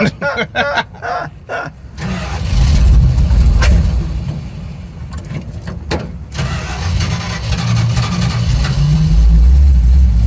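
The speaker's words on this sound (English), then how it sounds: "At this point, the engine is still running like garbage." A roughly running car engine in a modified Roadkill project car cranks and catches, then idles loud and close with an uneven, lumpy low rumble that persists throughout, with faint voices early on.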